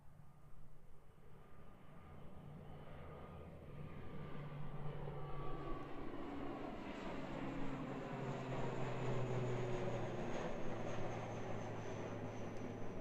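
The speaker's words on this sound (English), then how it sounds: "Early rotation and early liftoff. That is a light ATR." A light ATR turboprop airliner takes off at Christchurch Airport, New Zealand, its engine drone swelling into a loud, steady roar with falling whining tones as it rolls and lifts off nearby.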